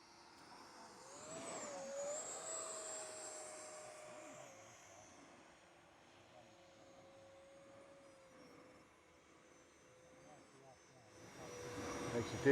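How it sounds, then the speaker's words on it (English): An RC model Red Arrow jet makes a low pass at an airfield, its whining engine rising and fading in the distance, with people talking over it and a louder rush near the end. "I'm not going for a landing, just going for a low pass."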